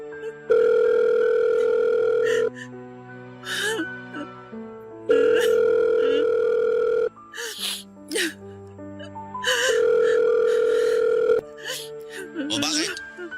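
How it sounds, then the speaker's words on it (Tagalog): A phone rings back through a handset receiver while a call is placed, with long tones in three regular bursts and a voice talking in the gaps between them. "Susubukan kong tawagan siya ngayon."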